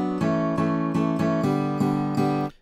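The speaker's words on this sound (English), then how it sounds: "The guitar 1 sounds like this." Guitar playing a MIDI pattern in FL Studio, with a series of sustained, bright chords struck at a steady pace, loud and close, ending with a brief sharp final hit.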